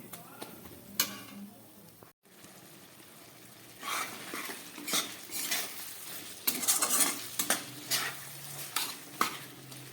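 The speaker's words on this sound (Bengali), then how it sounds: "এইটাকে আরেকটু কষাবার জন্য আমি এই মশলার জলটা দিয়ে দিচ্ছি।" Spoon scraping and clattering in a pan as soybean kosha is stirred after spice water is added, with intermittent metallic knocks and a soft sizzle, close and alone without talk.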